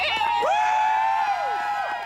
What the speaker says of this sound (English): Applause from the onlookers.